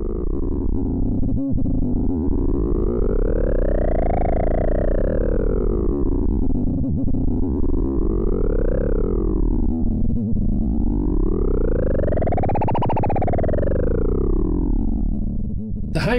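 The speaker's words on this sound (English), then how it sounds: "I'm starting to bring up the gain of the LFO that's driving the delta parameter, which is going to cause each filter's frequencies to sweep in opposite directions." A synth filter module sweeps under LFO modulation, its resonant filters moving in opposite directions in repeated rising and falling arcs of a loud, buzzy, distorted tone that continues throughout with no voices.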